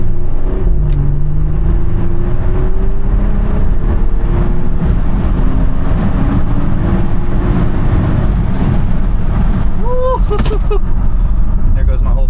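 SUV engine, a $15,000 sleeper build, revving hard and shifting gears near 2,700 RPM, with rising and falling engine tones filling the cabin while someone talks over it and a brief whistle-like squeal near the end.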